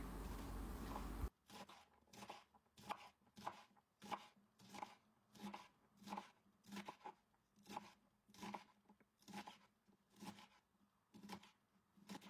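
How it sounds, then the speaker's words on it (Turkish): A knife chops fava beans finely on a board in quick, even strokes, a steady rhythmic series of crisp taps after a brief loud burst at the start, close and alone. "Tüm baklalarımı aynı şekilde doğramaya devam ediyorum."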